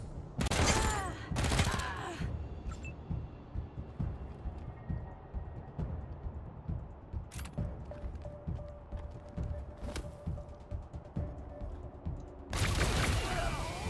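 Bursts of laser rifle fire from the video game Wasteland 3, sharp loud salvos separated by quieter stretches of game ambience and clicks.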